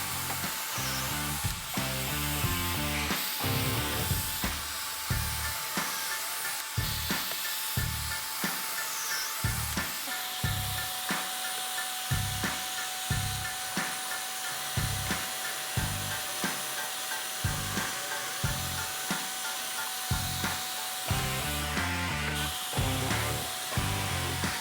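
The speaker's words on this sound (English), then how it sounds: "now I'm going to drill some holes with my Kreg jig." Pocket holes drilled into 2x4 and 2x6 lumber for a wooden desk using a Kreg jig, a steady run of short, loud drill bursts repeating about once a second, close by with no talk.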